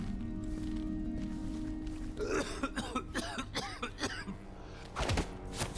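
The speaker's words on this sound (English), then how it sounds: "Oh, that's a bad cough." A few rough, hacking coughs from a guard in Dishonored 2, in quick bursts, fairly close, over a low steady background hum.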